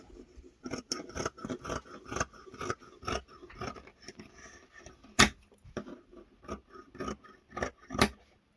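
Scissors cutting ribbon for a face-washing headband, with repeated crisp snips at an irregular rhythm, a couple of sharper loud cuts, close up and with no talk.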